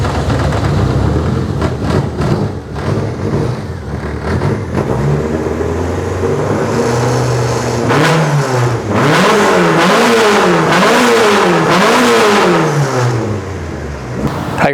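Car engine fitted with adjustable individual throttle bodies, with a six-speed gearbox in a GT, revved loudly and close up. Sharp repeated blips come first, then a run of rising and falling revs, with no one talking.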